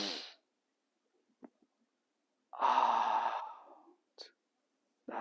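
One slow, steady exhale during a Shaolin Baduanjin qigong breathing exercise, close and soft, lasting over a second, set between short quiet breaths and brief breathy sounds.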